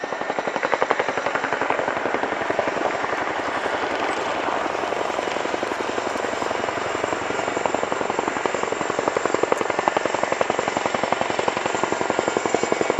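A Boeing Chinook flies an airshow display at RIAT 2018 at Fairford, its twin rotors throbbing in a loud, fast, unbroken beat for the whole stretch, with no voices.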